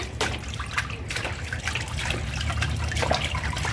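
Water trickles and splashes steadily while someone is being bathed, a continuous close pouring sound with small drips and no speech over it.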